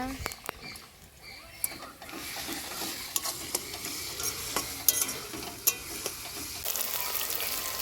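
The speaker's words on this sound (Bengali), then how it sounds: "শুন লঙ্কা সব ভাজা হয়ে গেছে এবার দেব জিরে বাটা" Ground cumin paste frying with chicken in a pan, a soft, fairly quiet sizzle under scattered scraping and tapping as it is stirred, with no clear talk.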